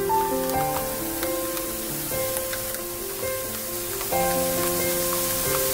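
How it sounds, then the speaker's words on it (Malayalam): Boondi batter drizzled into hot oil in a pan sizzles steadily for several seconds, a continuous crackling fry under a tonal, melodic background. "ഒരു പാൻ വെച്ച് ഓയിൽ ചൂടായി വന്നിട്ടുണ്ട്. അപ്പൊ പിന്നെ നമുക്ക് ബൂന്തി വറുത്തെടുക്കാം."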